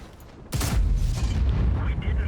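The ISU-152 tank's big gun fires one massive, booming shot in a video game battle, its deep blast rolling and rumbling for a couple of seconds afterward.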